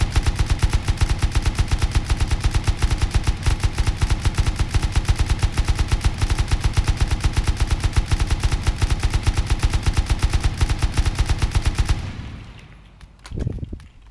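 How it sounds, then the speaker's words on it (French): Sustained automatic fire from an M249 machine gun in the video game Rust, a loud, rapid, steady stream of shots for about twelve seconds that cuts off abruptly, followed by a few faint clicks and handling noises. "M249 est une arme très ravage qui n'a aucun recul, hein."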